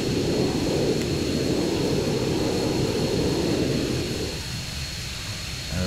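Jet engine of an A-164 aircraft in Arma 3 held at throttle: a loud, steady roaring rumble that eases slightly near the end, continuous and without talk.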